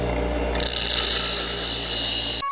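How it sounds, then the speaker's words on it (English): A power grinder whines steadily and loudly at close range while modifying a hunting rig, starting abruptly about half a second in and cutting off just before the end, with no talk. "I got a grinder. We're gonna make it correct."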